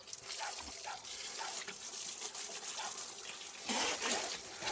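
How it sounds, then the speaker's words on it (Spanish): Water runs steadily from a household tap into a sink while a Spanish Legion shirt is hand-washed, a continuous gushing splash with shifting intensity and brief louder surges, close to the microphone. "Vamos a poner el grifo para aquí."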